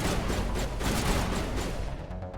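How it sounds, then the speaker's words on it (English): Dense, continuous enemy gunfire rattles through a Mass Effect firefight, sustained bursts layered over one another at close range and fairly loud, easing slightly toward the end. "Oh, they're just firing at the wall."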